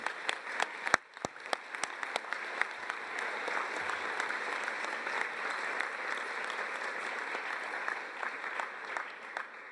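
Audience at a North Shore Community College graduation ceremony applauds, a steady wash of many hands clapping with a few sharp, close claps early on, continuing evenly to the end.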